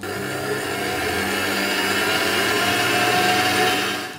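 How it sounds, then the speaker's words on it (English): An electric mixer whisking egg whites in a bowl toward stiff peaks for meringue, a loud, steady motor whir with a constant pitch that runs throughout without pause and then tapers off at the end, with no talking. "we're going to begin by whisking together some egg whites in a bowl"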